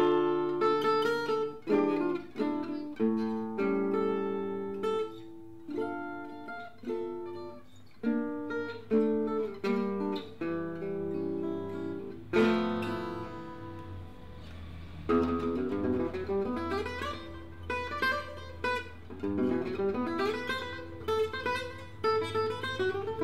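Maurice Dupont MD-100 acoustic guitar with quilted mahogany back and sides, mahogany neck and spruce top, played solo: strummed chords and picked notes ringing out with clear, warm tone, pausing briefly between phrases.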